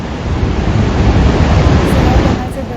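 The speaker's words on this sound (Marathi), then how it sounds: "सलाल धरणाचे दरवाजे उघडल्याने हे पाणी चिनाब नदीत जाते आणि नदीला पुराचा धोका निर्माण झालेला आहे" Floodwater from the opened gates of the Salal dam rushes into the Chenab river during heavy monsoon rain in Jammu and Kashmir, a loud, steady roar of churning water that holds throughout with no pauses.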